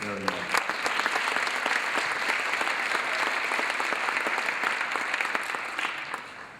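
An audience at a middle school film festival claps steadily, a dense, sustained round of applause heard up close that tapers slightly toward the end, with no voices standing out.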